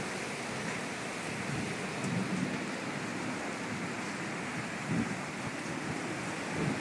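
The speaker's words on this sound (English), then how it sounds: "It's actually raining horizontally here." Heavy wind-driven rain from a microburst storm in Northeast Philadelphia pours in a dense, continuous roar, with gusty wind and low rumbling swells beneath it.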